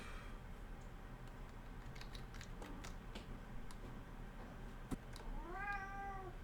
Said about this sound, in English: My cat's waking up.